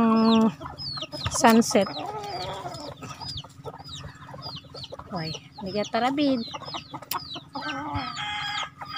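Chickens cluck and squawk repeatedly at close range around sunset, with a few sharp calls breaking through, while a person briefly speaks over the flock.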